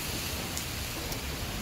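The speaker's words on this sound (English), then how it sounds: "So it's raining, and here I am hiding from the rain." Steady rain falling, heard from a sheltered spot while out window shopping, a dense even hiss with no break and no voices.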